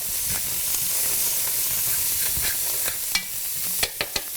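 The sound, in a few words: chopped onions sizzling as they are stirred in pan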